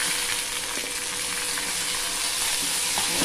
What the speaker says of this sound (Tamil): பூண்டு இஞ்சி போட்டு வெங்காயம் தக்காளி